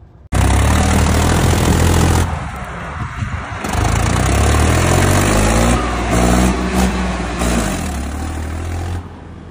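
A tractor engine runs loud and close, its rumble rising and falling as it revs up and settles back, heard alone without talk.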